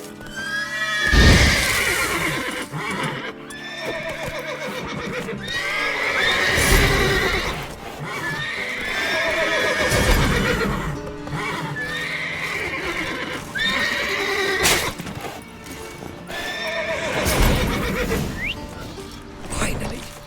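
Repeated loud horse whinnies and snorts from The Witcher 3 video game, several overlapping, with hooves clopping and restless stamping throughout.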